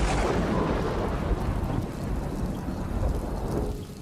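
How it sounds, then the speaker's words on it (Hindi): Heavy rain pours steadily with rolling thunder, a dense, loud wash of storm noise that fades slightly toward the end, with no voices. "तभी बारिश की बूंदों के बीच"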